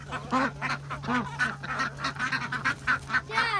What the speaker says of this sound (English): I got the turkeys back in here.